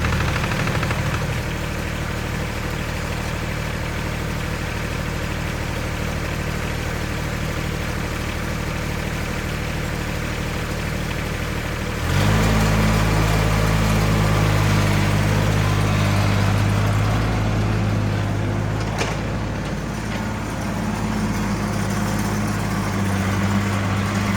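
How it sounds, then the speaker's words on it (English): An excavator's Perkins diesel engine idling steadily and loudly nearby, a constant low rumble that steps up in pitch partway through and holds. "I'll let it idle over there for a little while"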